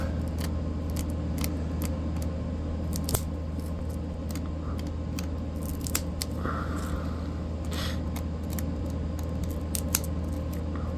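Sharp little clicks from a sheep horn pressing flakes off stone tick out irregularly over a steady low background hum, close and crisp, with no talking.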